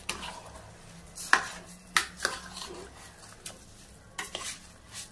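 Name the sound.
stirring khichdi rice mixture in a pan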